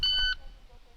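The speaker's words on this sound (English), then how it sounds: "At the beep, we're gonna go." A shot timer gives a short, sharp electronic start beep at a handgun drill, lasting about a third of a second and then falling into quiet.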